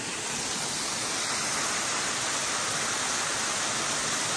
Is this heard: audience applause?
no